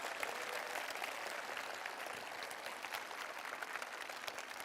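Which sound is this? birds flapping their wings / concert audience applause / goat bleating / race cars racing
concert audience applause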